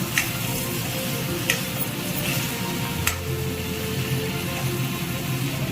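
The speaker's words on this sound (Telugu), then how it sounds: "ధనియా పౌడర్ మన ఇష్టం, రుచికి తగినంత వేసుకొని ముక్కకు పట్టేటట్టు అంతా కలుపుకోవాలండి" Chicken pieces are mixed with coriander powder in a hot pan, a steady sizzle with soft scraping and occasional sharp utensil taps, close by and without speech.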